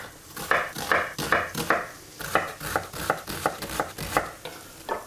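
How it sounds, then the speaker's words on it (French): Onion and carrots cooking in butter in a casserole pot, stirred in a steady rhythm of scraping strokes roughly every half second, close and fairly quiet with no talk. "On va faire cuire oignon et carottes comme ça pendant 5 minutes."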